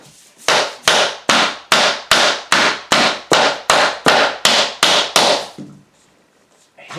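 About a dozen sharp hammer whacks land at a steady rhythm against the edges of laminate flooring boards during an install, each loud close strike followed by a short ringing decay, then a brief quiet pause.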